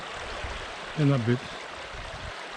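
A moorland river on Bollihope Burn flows with a steady broadband rush of water nearby while someone briefly speaks over it.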